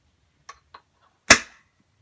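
An AirsoftPro Scar-L airsoft rifle fires a single shot through a chronograph, a sharp close crack preceded by two faint clicks in an otherwise quiet room.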